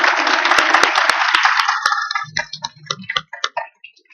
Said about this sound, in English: I'd like to have a big round of applause for our panel.